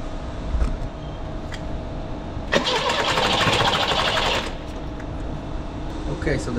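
A Peugeot 204 engine turns over on its starter during a compression test, with a battery charger connected. A burst of rhythmic cranking lasts about two seconds mid-clip, framed by quieter background noise.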